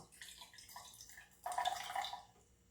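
Water poured from a container into a measuring vessel during a classroom science experiment on soil and water: soft trickling and dripping at first, then a louder, brief gush of pouring near the end, with no speech.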